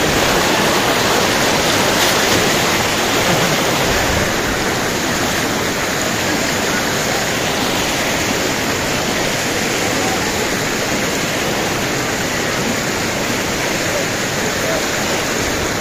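Kalu waterfall in Maharashtra roars in a dense, unbroken rush of falling water, loud and close, steady throughout with no pauses.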